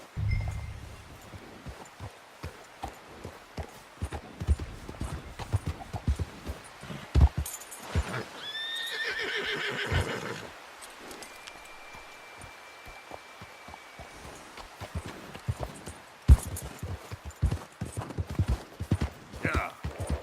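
Horse hooves clip-clop at a steady trot in the video game Red Dead Redemption 2, a crisp rhythmic patter that pauses midway beneath brief rustling before resuming.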